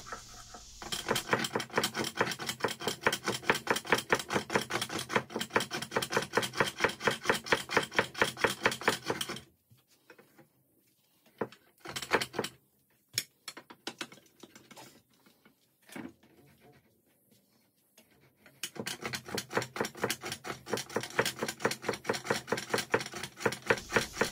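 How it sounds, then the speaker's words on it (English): A spindle is turned down to a smaller diameter on a string-driven lathe, with rapid, rhythmic scraping pulses close by. A quieter stretch of scattered knocks falls in the middle before the steady cutting resumes, and no one talks. "The first thing I'm going to do is turn down the slightly smaller diameter round spot on this end"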